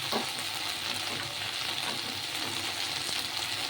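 Okra sizzles steadily in mustard oil in a wok with panch phoron and dried red chillies, an even hiss of frying throughout, close and moderately quiet, no voices.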